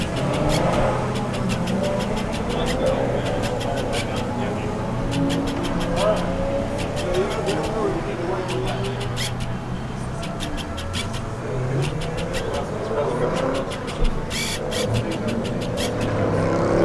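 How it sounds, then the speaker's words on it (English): A Corvette ZR1 V8 drones steadily on a race track, its low engine note rising and falling through gear changes, heard from the passenger seat with people talking over it throughout. "so I know I got a ride with Jerry, so he's got a Zr1 Corvette, and I'll be passenger there"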